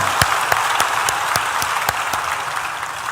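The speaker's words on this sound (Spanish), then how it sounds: "denle un aplauso al que merece toda la gloria" A church congregation applauds during a Spanish-language sermon service, steady dense clapping from a crowd with a few sharper individual claps standing out, fairly even throughout.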